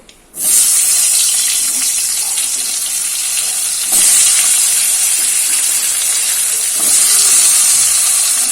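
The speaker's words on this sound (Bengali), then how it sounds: "কড়াইতে এখন অল্প একটুখানি তেল আছে, এই তেলটার মধ্যে এই ট্যাংরা মাছের আলুগুলো ভেজে নেব" Potatoes fry in a small amount of leftover oil in a wok after tangra fish was cooked in it, giving a loud, steady hiss that holds throughout, with slight surges in intensity and no talking.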